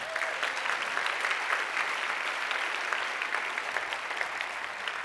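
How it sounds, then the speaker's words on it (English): Steady applause from an event audience thanking the judges at a startup pitch competition awards, dense clapping that holds evenly loud from start to finish with no break. "So give them a round of applause."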